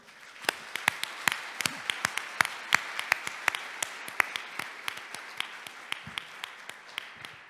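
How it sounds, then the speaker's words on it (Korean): A sparse crowd at an army forum claps for military cadets and candidates in an auditorium, with distinct, separate hand claps in an uneven rhythm at moderate distance. "이분들에게 뜨거운 박수 부탁합니다."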